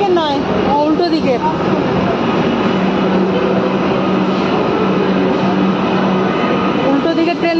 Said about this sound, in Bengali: উল্টো দিকে ট্রেন পেরিয়ে গেল।